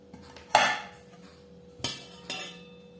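A metal pot clanks against a hard surface three times, one sharp knock followed by two lighter clinks, close by with no talking.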